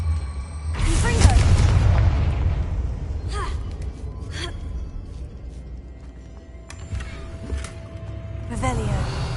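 Fiery Confringo spell blasts in the Hogwarts Legacy video game: a loud booming burst near the start with a rumbling tail, followed by several sharp crackling impacts and another swell toward the end.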